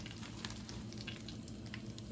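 Southern-style perch, a second batch dropped into hot oil with Louisiana Fish Fry coating, fries with a steady, close, moderately loud sizzle and crackle that holds evenly throughout, with no talking.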